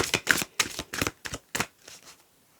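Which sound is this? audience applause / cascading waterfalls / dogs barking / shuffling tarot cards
shuffling tarot cards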